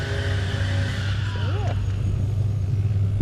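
A Pro-Am race car passes at a track, its engine note climbing and falling in a quick swooping pitch sweep above a constant low rumble of crowd and track noise.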